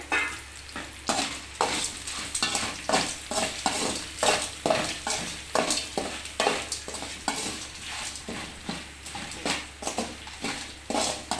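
Egg and two kinds of leafy greens are stirred in a frying pan, steady rhythmic scraping strokes over a constant sizzle, close up with no talking.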